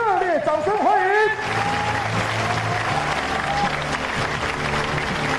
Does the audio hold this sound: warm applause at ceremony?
yes